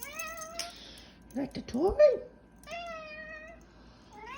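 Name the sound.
cat meowing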